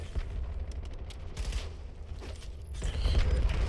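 Rapid video game gunfire, a quick run of sharp shots fairly low in the mix, followed by mechanical clicks of a reload and a heavier burst near the end.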